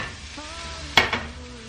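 Food simmering in a pan gives a soft continuous sizzle, broken by a couple of sharp clinks and scrapes of a utensil against the pan.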